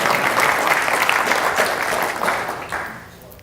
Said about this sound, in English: If you're here, please, I'd like to give you applause.